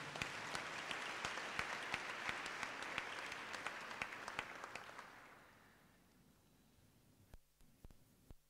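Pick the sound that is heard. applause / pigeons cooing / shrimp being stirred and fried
applause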